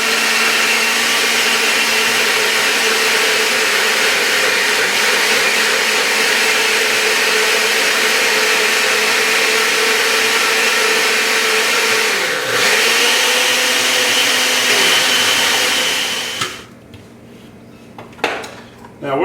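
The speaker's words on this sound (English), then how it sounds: "what we're going to do is put them in the blender" A kitchen blender grinds muscadine grape hulls with a loud, steady motor whir that holds for about sixteen seconds, dips briefly once, then cuts off, leaving a few faint clatters.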